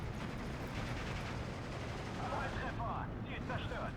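Steady gunfire and explosions rumble in a Steel Division 2 World War II battle, a dense continuous barrage with no break.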